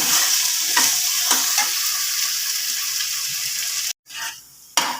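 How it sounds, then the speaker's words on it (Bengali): Spice masala with salt and black pepper frying down in a single pot for chicken pulao, a loud steady sizzle broken by repeated stirring scrapes, a brief drop-out near the end. "আর দিচ্ছি স্বাদের জন্য গোলমরিচ ভালো করে ভাই এটাকে যতক্ষণ না তেল ছাড়ে একটু কষিয়ে নেব"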